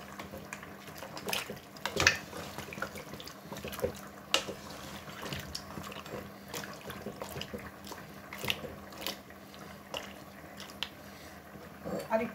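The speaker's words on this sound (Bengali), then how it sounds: "এটাতে আমি পানি দিয়ে দিলাম।" Water pours into a cooking pot for a simple home-style curry, a low continuous splashing trickle with a few louder sloshes and faint clinks, heard fairly close and fairly quiet.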